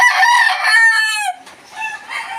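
A dark red rooster with white striping, kept by a backyard breeder, crows loudly and close up in one long drawn-out call that trails off into quieter sounds.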